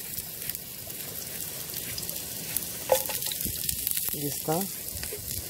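Onion sizzles and fries in a pan outdoors beside Castaic Lake, where freshly caught crappie and bluegill are being cooked: a steady bright crackle with a few louder stirring bursts, and a voice briefly speaking over it.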